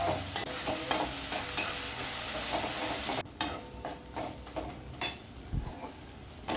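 Boiled jackfruit is sautéed in a pan with a bright frying sizzle that drops off abruptly, followed by intermittent stirring knocks and scrapes of a spatula against the pan.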